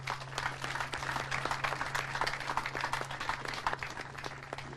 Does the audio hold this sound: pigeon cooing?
no